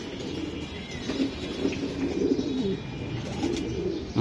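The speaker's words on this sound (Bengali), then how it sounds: "দুটা কবুতর দেখছেন নি?" Racing pigeons cooing nearby, soft repeated low coos over a steady background hum, with no talk.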